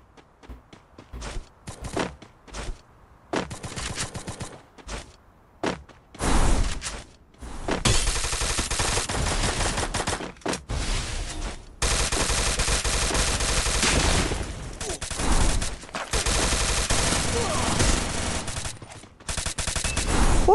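Bursts of rapid gunfire crackle in a Free Fire shootout, short volleys at first, then sustained automatic fire with barely any pauses.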